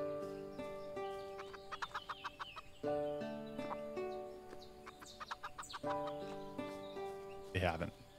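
Chickens clucking on a farm in the video game Everdream Valley, with repeated short bursts of clucks over a steady background tune and a brief squawk near the end.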